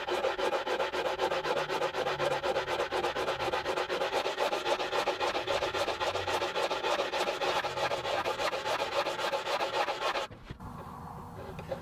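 Steady, continuous abrasive rubbing of 80-grit sandpaper on an acoustic guitar fretboard, loud and close, with a rhythmic back-and-forth scratch, stopping abruptly near the end.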